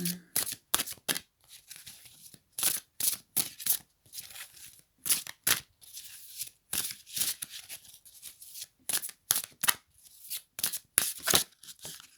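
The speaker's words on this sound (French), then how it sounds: "voilà, une carte s'est retournée." Oracle cards being shuffled by hand, a fast run of crisp riffling bursts with short pauses, close and fairly loud, and one card flipping over partway through, with no talk.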